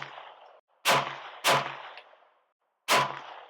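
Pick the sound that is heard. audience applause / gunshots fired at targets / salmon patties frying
gunshots fired at targets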